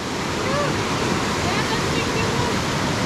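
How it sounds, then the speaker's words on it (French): Water near the shore beyond the Arctic Circle, with a steady broadband wash of surf and a little wind noise on the microphone. "nous sommes ici près de l'eau"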